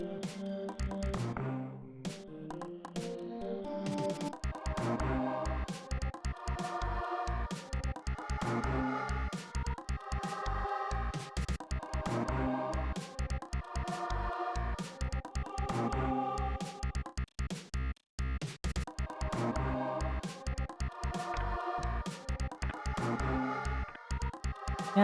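Retro Super Nintendo game music plays through an emulator with a thumping bassline, pulsing beat and bright chip-like melody, steady and continuous throughout.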